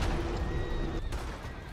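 A horse whinnies loudly and close in Red Dead Online, one drawn-out neigh over a rumbling game background with faint hoofbeats.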